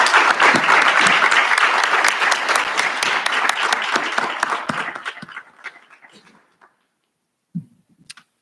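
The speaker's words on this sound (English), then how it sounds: "you owe yourselves a round of applause" An audience at a recognition ceremony breaks into loud, dense applause that fades to scattered claps after about five seconds, followed by near silence and a couple of faint knocks.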